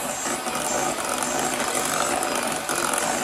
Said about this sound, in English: This is a super powerful whisk, so it's done the job already.